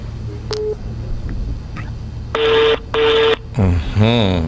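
Touch-tone telephone dialing beeps on a radio phone-in programme: a few short bursts followed by two longer tones, clear and fairly loud, with faint background talk and room noise around them.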